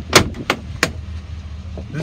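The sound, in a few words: Chevy Silverado truck door clacking open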